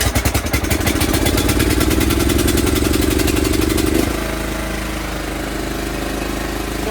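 A lawn mower engine cranks and catches, running with a steady, rising mechanical drone for about four seconds, then settles into a lower, even idle that stays loud and close throughout.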